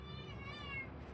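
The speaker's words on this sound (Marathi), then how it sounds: "हे काय माहीत काय करते तर मांजर" A house cat meows once or twice in a home during monsoon rain, a soft, short call sitting over steady low background noise.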